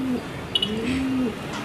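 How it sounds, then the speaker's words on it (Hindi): A black pigeon gives soft low coos close by, a few short tones in a quiet setting, with no talk. "यहाँ पे हमारे पास में एक ब्लैक कबूतर है"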